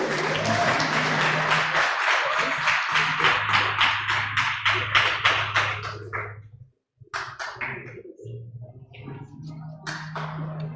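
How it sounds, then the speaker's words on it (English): Audience at a 2023 Jomo Kenyatta University student association inauguration ceremony clapping for the Secretary General, a dense burst of applause that thins into scattered rhythmic claps, briefly drops out, then resumes over a steady low hum. "A clap for the Secretary General."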